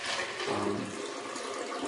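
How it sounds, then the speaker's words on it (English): Filtered water pours steadily into a blender or container as the base for a shake, making a continuous splashing gush with no speech. "Usually I use filtered water, so you can add that in like that."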